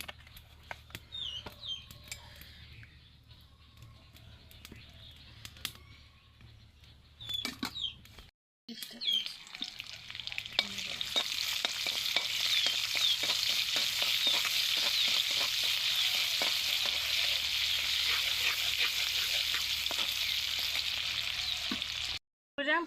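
Oil frying in a pan. Quiet clattering comes first, then after a brief gap a loud, steady hissing sizzle holds for the rest of the time, with light scraping taps scattered through it.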